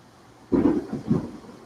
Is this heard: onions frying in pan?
no